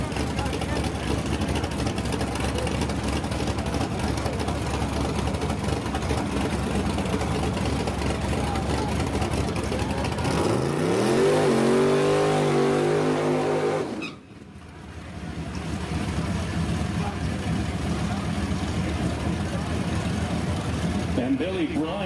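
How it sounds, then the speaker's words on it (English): Two Ford Mustangs, a 1989 and a 1982 one with a 351, launch side by side at a drag strip cash-days event. Loud engine roar climbs through rising revs, peaks, cuts off sharply, then settles into a lower drone, with an announcer talking over it. "So it's an 89 Mustang in the left lane, an 82 Mustang in the right."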